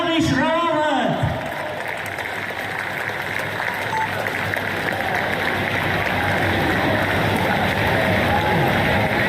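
Applause and crowd noise at the NMDC Hyderabad Marathon 2025 prize ceremony honouring a runner, a steady broad wash of clapping that builds after a brief announcer's voice at the start and continues loudly to the end.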